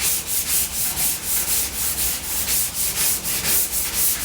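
Body filler on a Porsche 356 is hand-sanded with a sanding block, giving rapid, regular back-and-forth rasping strokes, close and loud, about four strokes per second with no talking.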